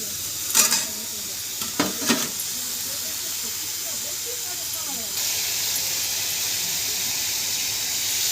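Potatoes drop into a hot pan for ridge gourd and prawn curry, giving a few sharp clatters and bursts of frying followed by a steady, loud sizzle and hiss of oil that continues close by.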